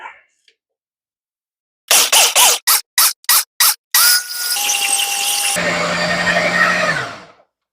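A food processor blends Mexican meatloaf ingredients: a run of short loud pulses, then a continuous whirring grind for several seconds before it stops, close by with no talk.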